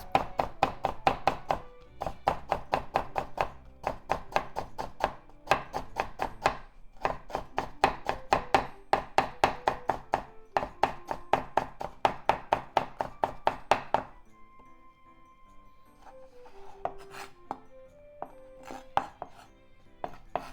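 Knife chopping pork into strips on a cutting board, fast steady thwacks repeating close up for most of the time, then stopping as a few tonal clinks and kitchen noises follow.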